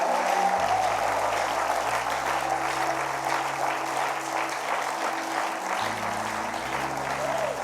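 A church congregation applauding in praise of God, with dense, sustained clapping from a large crowd that continues without a break over a low, steady musical backing.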